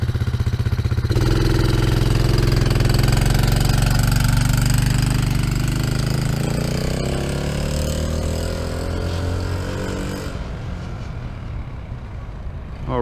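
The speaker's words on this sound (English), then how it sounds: "He's gonna give it a start and give it a good go." A TaoTao Cheetah 125cc vehicle engine starts up and runs steadily at close range, a loud continuous drone that holds for about ten seconds before easing off and fading toward the end.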